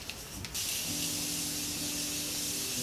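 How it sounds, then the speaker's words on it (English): A short click, then a steady fine hiss of Morphe Continuous Setting Spray misted onto a face for a couple of seconds, close and fairly loud, with a faint tone underneath. "I'm gonna use my Morphe Continuous Setting Spray"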